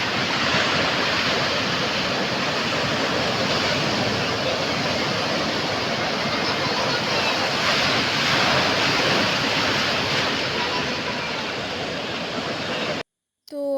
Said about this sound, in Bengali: সমুদ্র এখন উত্তাল, ওই জন্য ঢেউগুলো সব পাথরের উপর আছড়ে পড়ছিল।